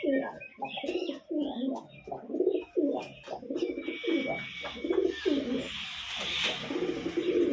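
A pair of caged flying-breed pigeons coo repeatedly in a steady rhythmic series, close by, with soft rustling and a faint hiss in the background.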